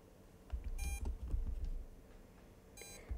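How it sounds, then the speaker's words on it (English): An RC transmitter used with a drift trike and RC cars gives a couple of short, thin electronic beeps at a distance, over low rumbling handling noise and background hum. "Why are you beeping?"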